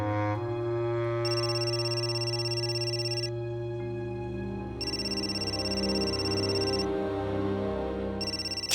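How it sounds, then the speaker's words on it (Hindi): An electronic telephone ringtone sounds in repeated bursts indoors, each ring lasting a couple of seconds with short pauses between them, over a low hum with no voices. "ताई का फोन है।"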